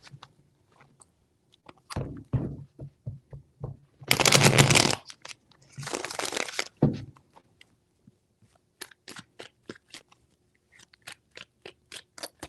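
Tarot cards being shuffled by hand, with two longer bursts of riffling between crisp, separate taps and flicks of the cards as they are handled and set down. The sound is close and isolated, with no one speaking.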